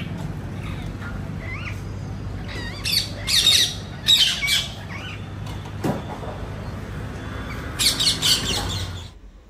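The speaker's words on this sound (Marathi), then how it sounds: "नेहमीप्रमाणे पोपटांचा असा किलबिलाट सुरू होता आज." Parrots squawk and chatter near a home during morning preparations, sharp bursts coming in clusters over a steady low background hum, with a louder flurry near the end.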